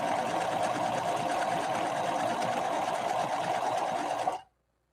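Singer 5808C sewing machine running a stretch blind hem stitch on velvet, a steady, continuous whirring hum at close range that stops abruptly near the end.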